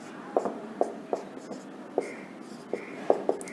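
Numbers are written on a board with rapid irregular tapping and scratching strokes, a dozen or so sharp taps spread across the moment, close and moderately loud with no talk.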